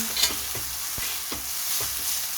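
Pancit canton noodles stirred in a hot frying pan, a steady sizzle broken by several spatula scrapes and clacks at an irregular pace, close and moderately loud with no talking.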